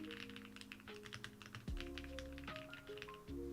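Steady typing on a custom-built mechanical keyboard, close and clicky, with rapid overlapping key taps and a few deeper thocks from the larger keys, heard alone without talk.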